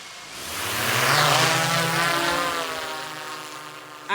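A drone lifts off outdoors during a whitetail deer bow hunt. A loud, close propeller whine builds quickly and then holds as a steady buzzing drone with shifting pitch.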